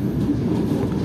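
Steel wheels of the Gajayana passenger train rolling over rails near Malang, a low continuous rumble with faint rhythmic clatter, heard from inside the carriage at a steady moderate level.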